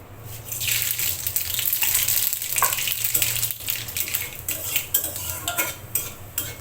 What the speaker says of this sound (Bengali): ফোড়নটা একটু ভেজে নিচ্ছি।